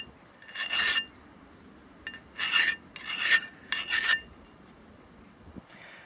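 Several short rasping strokes of a file clean burrs off the edges of a metal part, coming in uneven bursts with quiet gaps between them.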